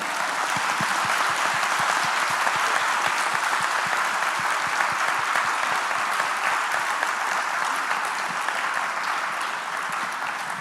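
Sustained, dense audience applause at a conference after a panel discussion, steady and loud throughout with no talking over it and only a slight easing toward the end.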